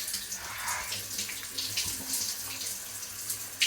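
Steady rush of a cruise ship suite shower running, continuous and moderately loud with a faint hiss and no talking.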